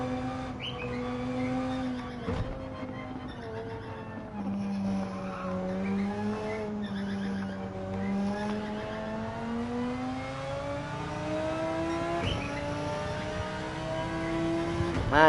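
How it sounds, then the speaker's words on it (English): Race car engine in Gran Turismo 7 during Manufacturers Cup practice, a steady droning whine that rises and falls with revs, with brief sharp clicks of gear shifts, moderately quiet and without talk. "And listening to your car's engine as well."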